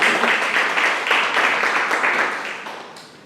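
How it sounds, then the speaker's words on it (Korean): An audience at a lecture hall presentation applauds to welcome a speaker, a dense burst of many hands clapping together that fades away toward the end. "여러분 박수로 맞이해 주십시오"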